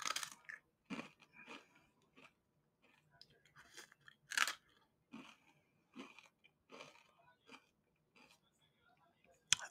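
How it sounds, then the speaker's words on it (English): Quiet, close-up chewing and biting on ice cream, in irregular bursts separated by pauses of near silence. "why is there chewing noises?"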